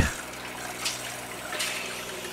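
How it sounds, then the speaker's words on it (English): Camper trailer faucet runs with pink antifreeze, giving a soft, continuous trickling and splashing with a faint pump hum beneath, and no talking. "we're going to go ahead and turn on the faucet"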